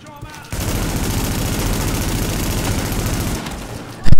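Enemy shotgun fire in the parkour game Mirror's Edge Catalyst, heard as a loud, dense, sustained barrage of shots lasting several seconds before cutting off, then followed by a sudden sharp blast at the end.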